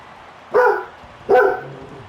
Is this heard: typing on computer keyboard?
no